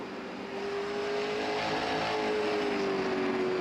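Late model stock race cars running on track at Five Flags Speedway, a steady roaring engine drone with a sustained whining tone that swells slightly and holds, loud and continuous, with no talking.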